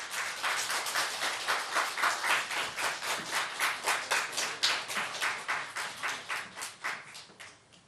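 Applause at a Baptist seminary graduation ceremony in Seoul, a fairly distant crowd clapping in a steady, rhythmic pulse that thins and fades out toward the end, with no talking over it.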